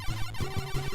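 Extra life pickup jingle in the video game New Ghostbusters II: a short, bright chiptune run of quick stepped beeps lasting about a second, heard alone.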